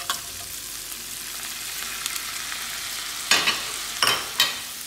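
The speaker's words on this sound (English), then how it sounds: "Now I'm adding tomatoes, green chilies, garlic and curry leaves." Tomatoes, green chilies, garlic and curry leaves fry in a pan with a steady close sizzle, and a few sharp scraping stirs come near the end, with no talking.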